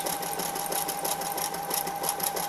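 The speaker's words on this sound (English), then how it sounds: "I am sewing with a zigzag stitch" A sewing machine running a zigzag stitch on bag netting, fitted with a plastic open-toed foot: a continuous fast mechanical whirring with rapid rhythmic needle clatter, steady and close, with no speech.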